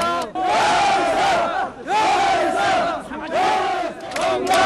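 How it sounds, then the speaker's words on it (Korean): A packed North Korean crowd at Kim Il Sung Stadium in Pyongyang cheers after a win over Japan, waving flags; loud rhythmic surges of massed voices rise and fall in three big waves. "경기장을 가득 메운 북한 관중들은 인공기를 흔들며 환호했다"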